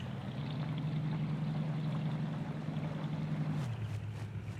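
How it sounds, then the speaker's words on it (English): A small waterfall in the Heartopia video game, heard as a steady, fairly soft rushing wash of falling water that continues evenly throughout, with a low tonal hum beneath it. "I'm gonna go up to this little waterfall and just see like how loud this is"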